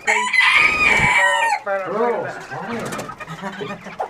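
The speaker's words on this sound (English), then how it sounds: "the Rooster Boys. He's got a big mouth today." A rooster crows loudly and close by, a long strained call, followed by more clucking and crowing from nearby birds.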